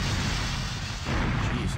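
A grenade explodes in GoldenEye 007, a loud sustained boom and rumble with a brief dip before the blast noise swells again, close and dominating.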